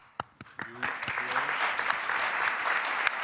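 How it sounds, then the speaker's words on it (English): A crowd breaks into applause after a few sharp claps, building into steady, dense clapping that continues to the end. "And then I would like to applaud you."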